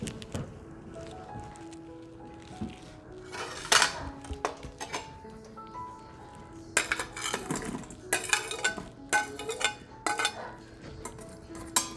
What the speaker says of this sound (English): Now the onion will go into the Instant Pot with the celery.